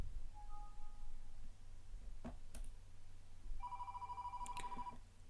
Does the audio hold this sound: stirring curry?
no